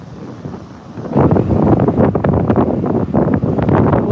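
Strong wind gusting at a beach, buffeting the microphone with loud, roaring blasts that swell after a quieter first second and continue without talk.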